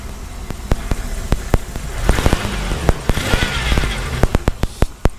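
A Datsun Z car engine idles unevenly, its rumble stumbling as it starts to cut out, with sharp clicks and pops scattered over a steady low drone, close and fairly loud with no talk.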